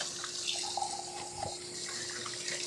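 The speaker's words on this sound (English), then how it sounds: "So we're gonna drain the liquid and rinse the beans off." Running water from a kitchen tap pours steadily over canned black beans as they are drained and rinsed in a colander, a continuous close splashing hiss.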